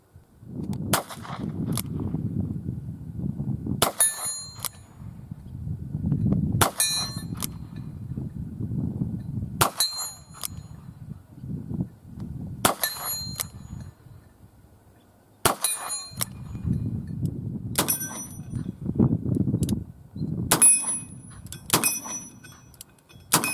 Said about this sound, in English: Practice your offhand shooting, people, especially at head-sized targets.